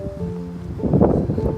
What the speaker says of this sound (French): Avec le vent et tout.